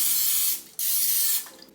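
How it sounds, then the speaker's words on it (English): Cooking spray hisses from a can in two short bursts of broad, airy spray, each roughly half a second long, separated by a brief pause, close and fairly loud with no voices. "Hope you will allow me the use of cooking spray."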